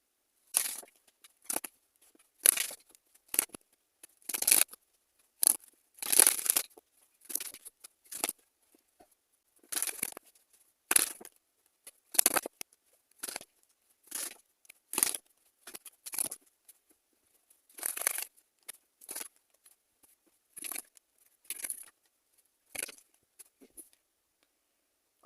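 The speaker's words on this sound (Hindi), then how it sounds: "आपके लिए कार्ड्स लेते हैं।" Tarot cards are shuffled and drawn, giving a long run of soft, close papery flicks and riffles in irregular short bursts with quiet gaps between them and no talk.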